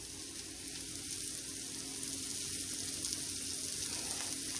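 Coriander leaves sizzle in hot oil in an iron wok, giving a steady, faint crackling hiss that continues evenly throughout with no voices.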